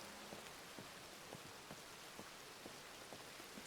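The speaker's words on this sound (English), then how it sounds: "Just walking in the rain," Steady rain falls in the WildRP video game while a character walks, a dense, even hiss with soft scattered droplet patter and no voices.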